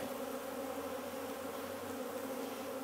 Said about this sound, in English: the bees are a little fired up here